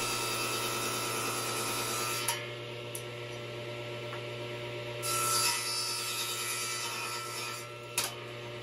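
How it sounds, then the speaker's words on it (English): Wooden post caps chamfered at 45 degrees are sanded smooth for a railing, a quiet, steady rubbing rasp over a low background hum, with a couple of brief knocks. "Then Josh sanded them smooth."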